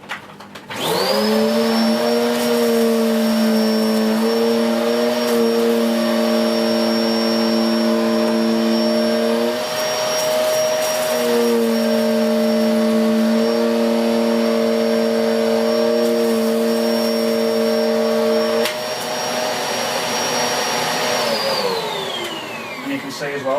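A Hoover Turbo Power Bagless UTP1610 upright vacuum cleaner switches on and runs with a loud, steady motor whine and high-pitched hum, its tone dipping briefly midway and winding down near the end.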